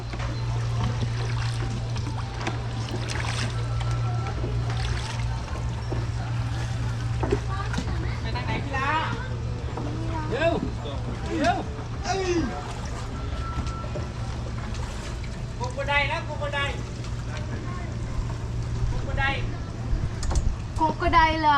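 An amphibious boat vehicle moves across water on a tour in Thailand, its steady engine drone and water wash running under people chatting and calling out through the whole stretch.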